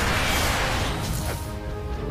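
Smashing of a drone in The Amazing Spider-Man 2 video game, a dense crashing burst over continuous loud game noise with a brief whoosh, no voices present.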